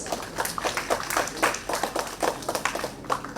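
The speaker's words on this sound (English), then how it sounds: "Let us have a huge round of applause for our department." Audience applause at a college department awards event, a steady patter of many hands clapping at moderate distance for several seconds with no talk over it.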